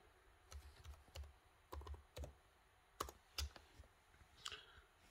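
Password keys tapped on an HP notebook keyboard, a quiet run of irregular clicks with short pauses between small bursts, close and alone.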